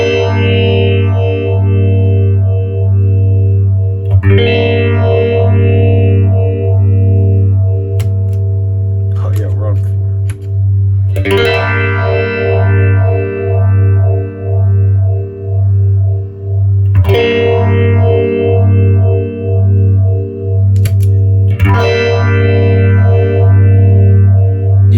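Sustained guitar chords pass through a vintage 1970s MXR Phase 90 phaser pedal, the tone swirling in slow regular waves, with new chords struck every few seconds.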